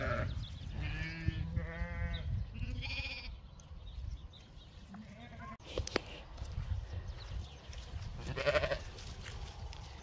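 Sheep ewes bleat in a gully, several calls in the first few seconds, close and clear, followed by shuffling and rustling, with a person speaking over parts of it.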